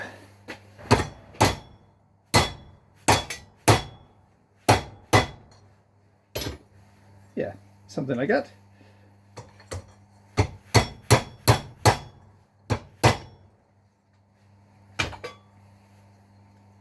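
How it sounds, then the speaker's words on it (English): Sharp metallic hammer blows strike a Ford Escort Mk1 door pillar panel again and again in irregular bursts, loud and close, with a brief spoken remark in the middle. "let's go beat that with a big hammer and make it back the shape it should be"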